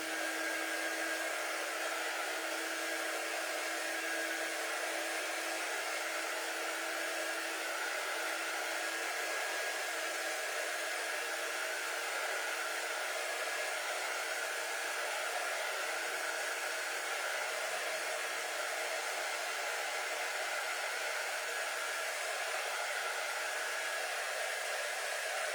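A hair dryer blows steadily and continuously at close range while drying a craft piece, a constant airy whine with no pauses and no voices.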